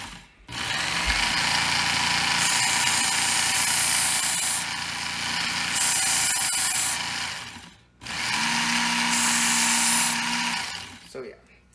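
A Ken Onion electric knife sharpener whirs at a steady speed in two long runs as a knife is drawn across its belt, a close mechanical hum with a short pause between passes and someone talking.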